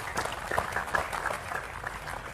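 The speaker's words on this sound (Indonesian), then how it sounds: "tepuk tangan enggak apa-apa ya" Audience applause at an Indonesian religious study gathering, a steady dense patter of many hands clapping that sounds moderately distant and carries on through the whole stretch.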